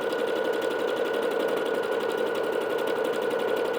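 A Bernette B-77 sewing machine runs at its highest speed setting, a steady rapid whirring with dense mechanical clatter from the needle, continuous and close without pause or talk.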